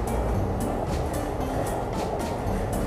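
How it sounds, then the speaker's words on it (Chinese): Electric trains, including Chuo Line cars, pass close by near Akihabara station, a continuous heavy rumble and rolling wheel noise with faint rhythmic clacks and no voices. "这次还被左右两旁的电车夹击耶！"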